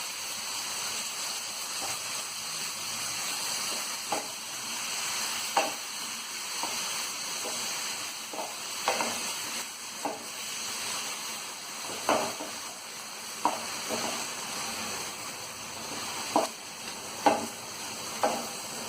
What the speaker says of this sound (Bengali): অল্প জল দিয়ে দেবো এটা কষানোর জন্য।